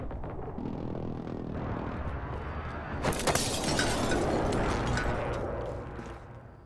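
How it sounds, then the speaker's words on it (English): Precision airstrike blasts from Call of Duty: Modern Warfare arrive as a sudden loud crack and shattering burst about halfway through, then a sustained rumbling roar with scattered debris crackle over a constant dense battle din. "Be advised, friendly precision airstrike inbound."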